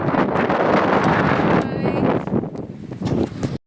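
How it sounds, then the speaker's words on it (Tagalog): Strong wind roars and buffets the microphone in a loud, steady rush that eases slightly toward the end. "Malakas yung hangin talaga"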